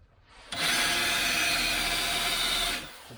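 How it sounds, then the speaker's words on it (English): A spot weld drill bores out a spot weld on the steel sill of a 1993 Range Rover Vogue 3.9, one loud, steady high-pitched grinding burst of about two seconds that starts and stops abruptly. "I'll use the spot weld drill."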